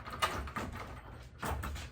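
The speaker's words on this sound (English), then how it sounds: "All right, I got the door open." A back-office door in a laundromat is opened, giving a few soft mechanical clunks and scrapes spread across two seconds, fairly close with faint room noise and no talking.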